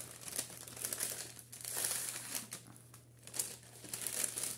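A plastic sachet crinkles and rustles close by, continuous soft crackling with a few sharper crumples, quiet against a faint steady hum.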